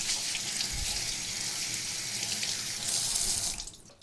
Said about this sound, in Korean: 감자 씻는 것부터 보여드릴게요